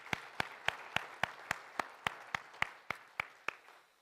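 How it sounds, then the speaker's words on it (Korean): Rhythmic unison clapping from a church congregation during an evening praise and prayer service, about a dozen sharp, evenly spaced claps at a steady beat, fairly soft and distant, with no voices. "우리 높으신 하나님께 영광의 박수 한번 드리겠습니다."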